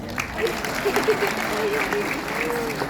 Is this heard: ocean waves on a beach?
no